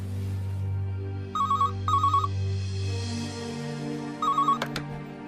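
A telephone rings in a dark house, three bursts of a trilling electronic bell in a radio drama, the first two close together and the third after a pause, over a low droning musical bed with no speech.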